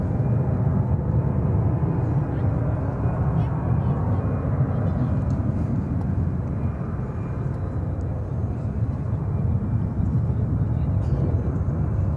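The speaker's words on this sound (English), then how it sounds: "That's American Flight 1883 going to Jackson, Mississippi, in Airbus A319." An American Airlines Airbus A319 takes off from runway 18 left at DFW with a steady, loud engine roar lasting throughout, under a faint voice.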